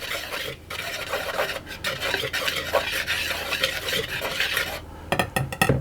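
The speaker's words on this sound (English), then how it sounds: "I'm just going to give those a bit of a whisk around." Flour, sugar and salt whisked together in a large bowl make a steady, close scratchy rasp that runs without a break, with a few sharper taps of the whisk near the end.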